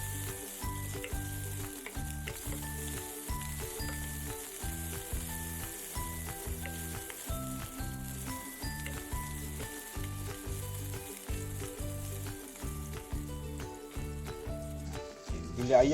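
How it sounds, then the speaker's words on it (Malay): Chicken pieces sizzle and fry steadily in a 20 cm UAKEEN granite non-stick casserole pot, a continuous close crackle with occasional stirring, no talk heard. "Goreng separuh, biar jadi separuh masak."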